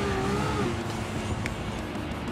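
A race car in the Gran Turismo video game overtakes another, its engine droning loud and steady with a slight rising pitch as it pulls alongside and moves past.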